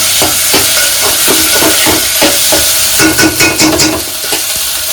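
Vegetables, including pre-boiled potato, sizzle and fry steadily in a pan for spicy Maggi, with scraping stirs and clinks from a spatula punctuating the continuous close hiss.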